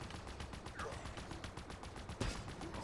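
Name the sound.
gunfire in the video game Halo Infinite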